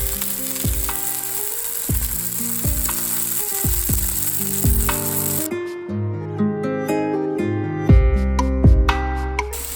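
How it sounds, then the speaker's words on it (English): A second steak goes into a hot pan and sizzles with a steady hiss through the first half, while plucked musical notes play over it throughout. "Now I'm going to put the second steak on."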